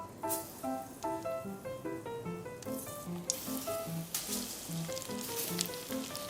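Kue fish pieces coated in potato starch fry in a pan with a continuous crackling sizzle, while tonal background music plays over it.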